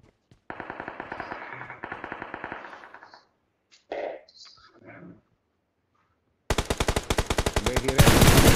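Rapid automatic gunfire in the battle royale mobile game BGMI crackles in loud bursts, pauses while a few voices talk briefly, then resumes as a fast, dense stream of shots, close and sharp.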